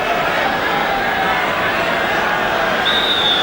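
Pre-match football crowd at Chelsea's ground in 1975, a steady dense murmur of many voices filling the stadium, continuous and fairly loud with no distinct chants or cheers.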